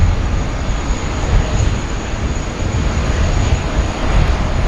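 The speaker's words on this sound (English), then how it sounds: "Long takeoff roll there, Air India bound for New Delhi." An Air India airliner bound for New Delhi makes a long takeoff roll at Sydney Airport, its jet engines giving a loud, steady, broadband roar that holds throughout with a faint high whine on top.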